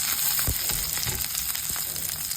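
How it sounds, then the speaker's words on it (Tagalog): Garlic sautéing in a pan for a Filipino green bean and squash coconut stew, a steady close sizzle with a few soft stirring scrapes and no speech. "Okay, bawang. Gisahin mabuti para lumabas ang aroma."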